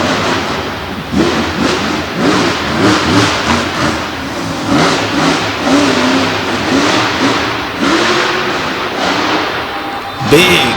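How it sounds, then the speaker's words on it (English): A monster truck makes a freestyle run over ramps at a Monsters of Destruction show in Du Quoin, Illinois. Its engine revs in loud, repeated surges beneath an announcer's commentary and ends with a heavy thud. "Big hit off the backside of that ramp as he comes down the face on the rear tires."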